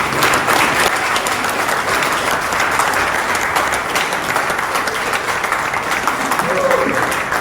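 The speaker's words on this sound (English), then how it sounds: "So I think they deserve a round of appreciation." A crowd applauding the coaches at a track riding school: sustained, dense clapping from a room full of people, loud and steady from start to finish.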